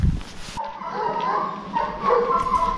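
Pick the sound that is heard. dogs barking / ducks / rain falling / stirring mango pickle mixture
dogs barking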